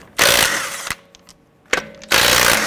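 A power tool with a 19mm socket spins off lug nuts from a 2012-2017 Toyota Camry wheel in two loud, close bursts of rattling whir separated by a quiet pause with light clicks.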